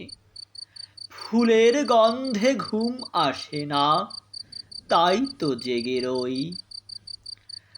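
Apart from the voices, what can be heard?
crickets chirping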